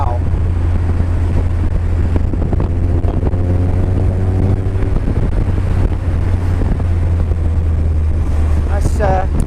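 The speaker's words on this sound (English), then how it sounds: "I'm getting quite a bit of wind in the face" Heavy, constant wind buffeting roars across an open car on its first drive, with a low engine drone beneath and someone talking over the noise throughout.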